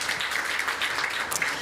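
A small audience briefly claps, a short burst of scattered applause with faint voices underneath.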